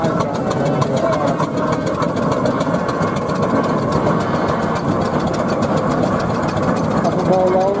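Steam rollers work at a Gloucestershire steam rally with a continuous, loud mechanical engine chuff and rumble, steady throughout, while a voice talks over it.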